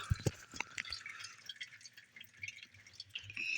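Engine oil from a Ford Ranger 4.0 drains in an irregular patter of drips and trickles into a pan, quiet and close, with a few sharper splashes near the start.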